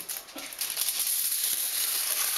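Aluminium foil is crumpled into a ball by hand, making a continuous close crinkling rustle that stays fairly even for a couple of seconds.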